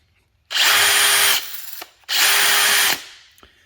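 A DeWalt DCD796 cordless hammer drill runs in two loud, close bursts of about a second each, whirring at steady high speed, then winding down with a short click after each burst.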